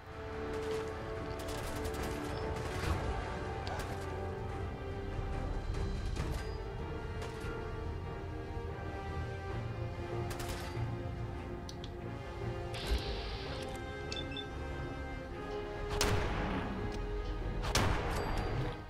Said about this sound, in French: on va voir d'où ça tire